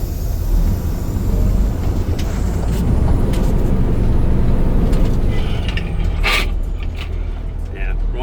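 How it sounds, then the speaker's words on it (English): A 2003 Kenworth T800 with a Cummins diesel and an 18-foot manure box pulls out, its engine rumbling steadily and close throughout with a brief hiss near the end, while a voice talks over it. "2003 T800 Kenworth Cummins diesel, an 18-foot manure box."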